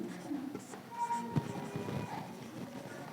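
Writing on a board during a Hindi-language physics lesson, heard as soft scratchy strokes and taps over about three seconds, fairly close, with faint room noise and no clear talk.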